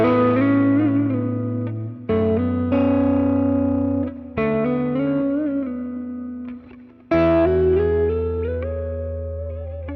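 A Gibson electric guitar plays hard-picked chords through a fuzzy, splatty, farty-sounding distorted tone, four loud sustained strums that ring out and decay, close and without talk.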